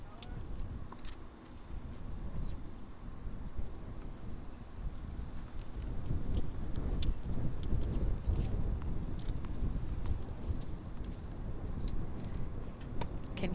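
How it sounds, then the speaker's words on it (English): Wind buffeting a microphone at an outdoor boys' high school tennis match, a steady low rumble and roar that swells around the middle and continues throughout with no talk. "Can hear all that wind"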